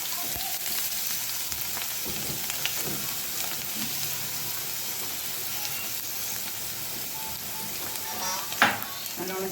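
Garlic sautés in coconut oil in a pan, a steady close sizzle running throughout with occasional stirring and scraping, for a chicken bread roll.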